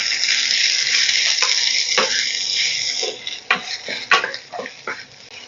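Chopped onion and garlic fry in refined oil in a kadai, a bright hiss of sizzling broken by the scrape and clack of a spatula stirring, several sharper knocks toward the end, close up with no talking.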